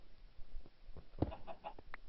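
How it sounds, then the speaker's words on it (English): A chicken in the Minecraft game clucks in a few short, quiet bursts near a cave, faint and close, with no talking over it. "I hear a chicken."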